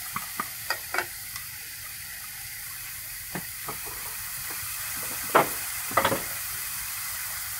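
Vegetable porridge mixture stir-fried in a pan at a vegetarian eatery gives a steady close sizzling hiss, broken by scattered sharp scrapes and clinks of the utensil against the pan, a few louder strokes near the end.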